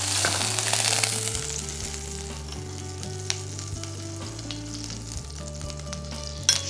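Butter sizzles and fries steadily in a pan for a seafood risotto, a continuous crackling hiss with a low hum beneath it and a few light clinks near the end; no voices.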